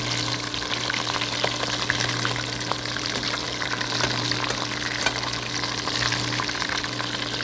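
Rolled food fries in a pan of oil, giving a constant, dense crackling sizzle over a faint steady hum, alone with no voices for the whole stretch.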